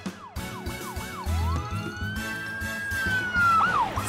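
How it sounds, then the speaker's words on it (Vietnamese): A police car siren wails loudly up close, starting with rapid yelping sweeps and then rising into a long sustained tone that bends and warbles at the end. "Xe cảnh sát đang tuần tra trên đường."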